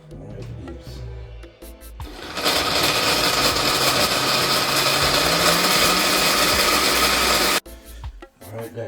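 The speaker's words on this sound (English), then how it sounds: "the first thing I'm going to blend is the coconut." A kitchen blender grinds coconut in a loud, steady whirring burst of about five seconds, with quieter handling noises before and after.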